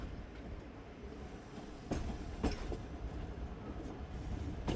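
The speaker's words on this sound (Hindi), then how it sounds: "और ट्रेन हमारी पहुंच रही है खानपुर रेलवे स्टेशन।" Bahauddin Zakariya Express train pulling into Khanpur railway station, with rolling wheel rumble, clanks and clicks over the rails, a few sharp knocks along the way, moderately loud and building toward the end.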